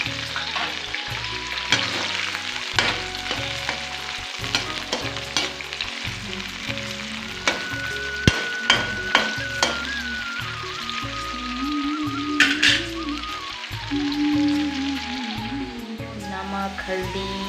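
Chopped onion sizzles steadily in a hot pan, a dense crackling fry punctuated by the clink and scrape of stirring, close and unbroken from start to finish.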